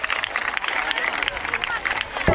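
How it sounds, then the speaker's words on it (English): Applause at a school's annual sports meet for a senior boys' prize winner, a fairly faint, dense patter of clapping from a crowd outdoors, with some background chatter. "Give him a big round of applause."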